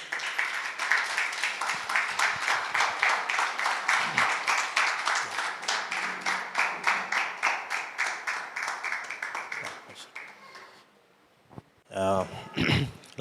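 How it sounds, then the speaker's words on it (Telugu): A congregation at a Holy Communion church service claps in a steady rhythmic stream of quick hand claps, loud and close, fading out before a short burst of speech at the end. "చప్పట్లు కొడదాం."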